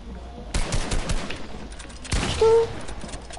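Rapid bursts of gunfire from a PS4 shooting video game, two loud volleys of shots separated by a short lull, with a faint voice briefly under the second burst.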